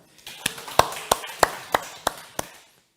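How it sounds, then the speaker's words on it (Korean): Church congregation applause for a deacon during a Sunday afternoon service, heard as about eight sharp, evenly spaced claps, fairly close and distinct rather than a full roaring ovation. "우리 정주현 집사 박수."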